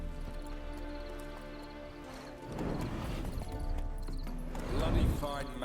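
Horse hooves clopping in The Witcher 3 video game, a steady gait under game music and a background hum, growing busier toward the end, with a short whinny near the close.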